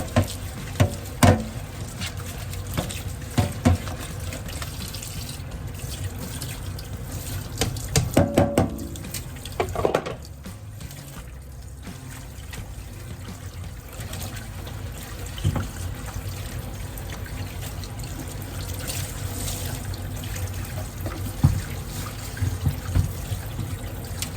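A kitchen tap runs steadily into a sink while dishes are washed, with water splashing and intermittent clinks and knocks of crockery close by, continuing for the full stretch without talk.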